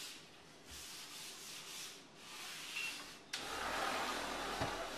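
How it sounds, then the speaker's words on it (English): A white terry cloth towel buffs freshly sealed granite, giving a steady, close dry rubbing and swishing that swells and eases in strokes, then grows slightly louder and rougher near the end. "After you buff with the white terry cloth towel"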